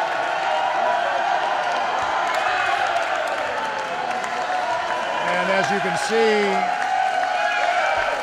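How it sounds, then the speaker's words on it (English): Chicago's men's team applauds the women's team at a handball championship gold medal game in an indoor gym, with a steady crowd of clapping and cheering under a commentator's continuous talk. "their teammates, the males of Chicago, are applauding their efforts as well"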